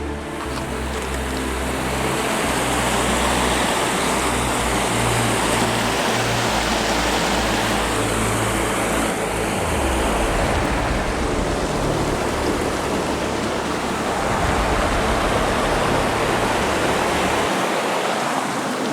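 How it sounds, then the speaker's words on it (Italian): A mountain stream near Sadali rushes loudly over rocks, a dense, continuous roar of running water that stays close and steady with no voices over it. "l'acqua che scorre è molto rumorosa"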